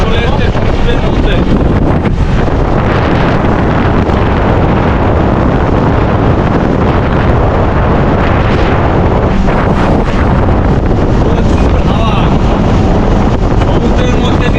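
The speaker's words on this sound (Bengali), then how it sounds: "সমুদ্রের মধ্যে দিয়ে জোরে ছুটে যাচ্ছে বোট।" A boat speeding across the sea on a Langkawi mangrove tour, with loud, constant rushing wind and water noise buffeting the microphone.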